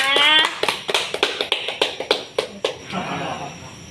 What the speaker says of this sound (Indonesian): Jadi Berikan tepuk tangan ya.